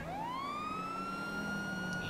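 A police car siren winds up in a rising wail and then holds a steady high tone, heard alone at moderate distance over faint background noise.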